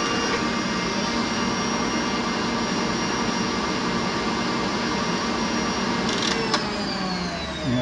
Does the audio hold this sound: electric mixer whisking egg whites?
yes